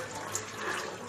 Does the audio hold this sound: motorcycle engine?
no